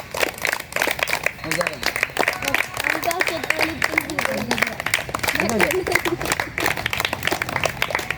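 Applause from an audience at a felicitation ceremony honouring BMR karate martial arts academy students in Hanamkonda, Warangal, steady dense clapping throughout with a voice speaking over it.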